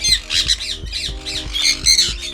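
Exotic pet birds kept in Lahore squawking in a rapid series of loud, harsh, rasping calls, close by and overlapping in quick bursts.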